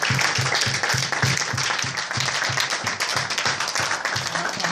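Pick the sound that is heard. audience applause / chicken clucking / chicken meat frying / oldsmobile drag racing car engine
audience applause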